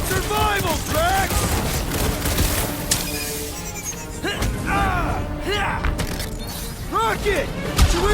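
Gunfire and blaster shots fill a combat scene in the Marvel's Guardians of the Galaxy video game, with repeated bursts, impacts and mechanical clanks, while characters shout over the action.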